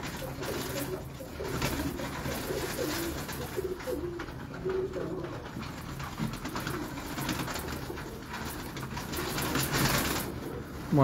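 Pigeons coo softly and repeatedly among a keeper's birds, with faint background clatter and little else.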